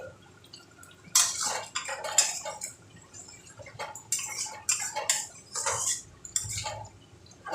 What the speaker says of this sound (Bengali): আমি ঢাকাটা এবার খুলে দিচ্ছি।